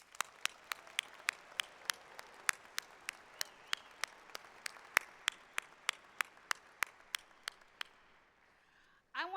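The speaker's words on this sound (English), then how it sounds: "Let's give them a round of applause." At a nursing graduation ceremony, a single pair of hands claps in a steady, evenly spaced rhythm, sharp and fairly close in a quiet room, stopping near the end before a brief noise.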